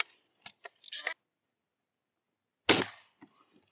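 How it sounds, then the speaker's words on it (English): A Crosman Boat Paddle air pistol fires one sharp, close crack, preceded by a few small clicks and handling sounds. "Let's shoot one more."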